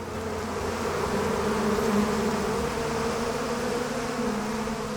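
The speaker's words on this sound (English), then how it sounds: "A swarm has formed in a bush in a busy residential street in Bern" A dense, steady buzz of a honey bee swarm in a bush on a busy residential street in Bern, close and continuous with no pauses.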